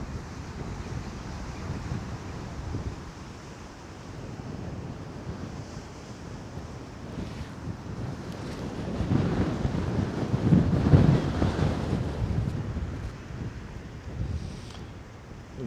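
Strong wind roars across Coney Island beach in New York with surf breaking underneath, a continuous loud buffeting rush that swells stronger midway, with no voices.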